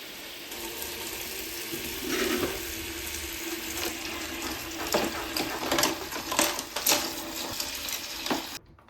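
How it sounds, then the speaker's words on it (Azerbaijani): Tap water runs steadily into plastic containers indoors, with sharp knocks and ratcheting clatter from home repair work nearby joining in toward the end. "İndi bunun içinə su dolduracağım."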